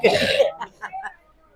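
A single harsh cough up close from a pilgrim with a cold in Pandharpur, followed by a few short throaty rasps as the person clears their throat, then quiet.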